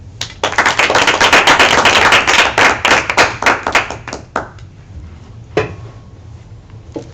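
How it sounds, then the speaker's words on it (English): A lecture audience applauds after an academic talk on imperial law and war in Africa: loud, dense clapping for about four seconds, then thinning into a few scattered, fading claps. "Just to invite you for a round of applause that you already did so."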